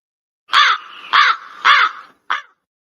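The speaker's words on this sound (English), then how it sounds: "And the crow outside." Crow outdoors giving four loud harsh caws in quick succession, the last one shorter, close and clear against a quiet background.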